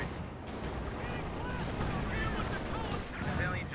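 Machine guns and rifles fire on a Company of Heroes 2 battlefield, with rapid bursts over a rumbling, fairly distant background of artillery. A voice talks intermittently underneath.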